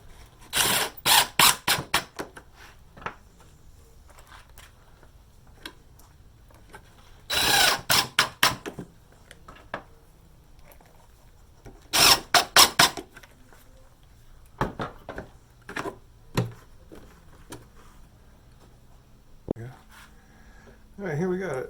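A power drill drives screws into a 5-gallon plastic bucket in several short whirring bursts separated by pauses, with quieter handling clicks between them and a person speaking.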